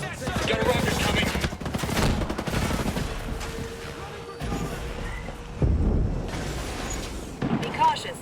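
Bursts of automatic gunfire in Ghost Recon Breakpoint, loud and sustained with short pauses between volleys, mixed with game noise and a voice talking over the shooting.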